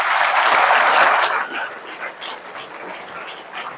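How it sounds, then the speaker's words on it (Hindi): A motivational event audience claps for themselves, starting as a loud burst of dense applause that quickly thins into scattered, fading claps, with a few voices and stray sounds mixed in. "तो हम सबसे पहले चाहेंगे कि एक ज़ोरदार तालियाँ आपको अपने लिए बजानी चाहिए।"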